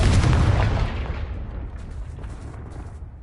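A fire-blasting spell explodes in Hogwarts Legacy, a loud, deep booming burst at the start that rolls off into a long rumbling decay with faint crackle, no voices.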